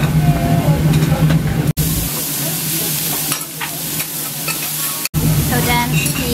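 Vegetables sizzle and fry on a teppanyaki hot plate in a Japanese restaurant, giving a loud, continuous crackling hiss with scraping and stirring. Two brief dropouts break the sound.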